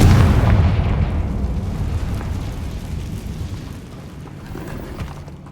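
A Confringo spell explosion in Hogwarts Legacy goes off as one loud booming blast that rolls into a long, fading rumble, with no talking over it.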